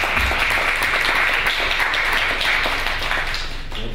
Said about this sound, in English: Let's give Arthur another round of applause,